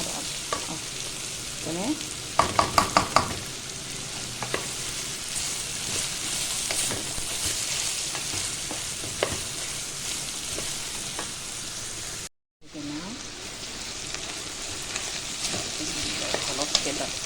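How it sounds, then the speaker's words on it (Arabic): Green beans and onion fry in a pan with a steady crackling sizzle, rapid utensil clicks early on and occasional stirring scrapes, one brief dropout; a voice speaks briefly over it. "خلاص كده الفاصوليا اتحمرت مع البصله"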